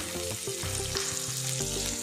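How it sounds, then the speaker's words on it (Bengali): Chopped ginger and green chilies frying with cumin seeds in hot oil, a loud continuous close sizzle with crackling bursts and occasional stirring, no talking. "আদা আর কাঁচা লঙ্কাটা একটু আমি ভাজা ভাজা করে নেব"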